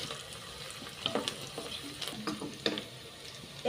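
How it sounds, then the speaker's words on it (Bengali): Sliced onion frying in hot oil for a pumpkin dish, with crackling sizzle and scattered scraping stir strokes, close and moderately loud, no talk. "তেলটা গরম হয়ে গেলে দিয়ে দিলাম পেঁয়াজ। পেঁয়াজটাকে ভালো করে নাড়াচাড়া করে নিলাম।"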